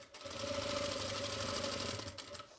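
A sewing machine stitching buckram onto the hem of a salwar runs in one steady, fairly quiet whirring burst, humming evenly for about two seconds before stopping.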